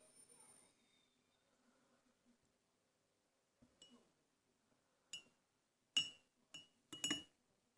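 A spoon stirring oil and water in a glass, a few sharp clinks against the glass after a quiet stretch, sparse, close and faint.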